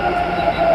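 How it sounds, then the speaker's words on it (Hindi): A metro train pulls into a busy, crowded station, giving off a sustained tonal whine over rolling rumble that runs through the whole short moment, with a faint voice in the background. "अभी देखिए फिर से दूसरा ट्रेन आ गया"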